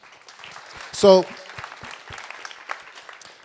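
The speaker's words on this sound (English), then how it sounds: "Give Khalil a round of applause." Audience applause at a justice-themed panel talk, a steady spread of clapping running throughout, with a voice briefly speaking over it near the start.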